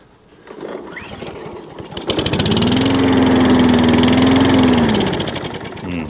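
A lawn mower engine with a lingering fuel problem, despite a cleaned carburetor, cranks, catches and settles into a steady, loud running drone that lasts several seconds.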